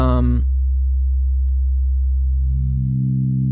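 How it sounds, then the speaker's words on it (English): A pure sine wave tone from the Ableton Operator synth holds steady and loud for about three seconds after a short burst of harmonic sound at the start, with no other sounds around it. "Here we got our sine wave"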